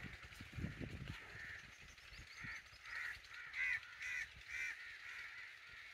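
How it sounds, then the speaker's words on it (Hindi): Crows caw repeatedly while flying home at dusk in breezy weather, a series of rasping calls at a moderate distance, faint and clear against the quiet background. "कव्वे जो है अपने घरों को जा रहे हैं खाना वगैरह खा के"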